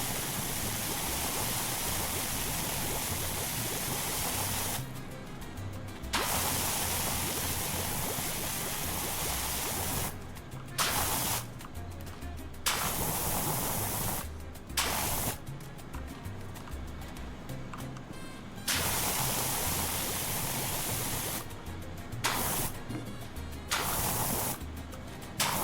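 Pressure washer in PowerWash Simulator 2 spraying soap, a loud steady hissing spray in long bursts broken by short pauses, close and sustained with no talking.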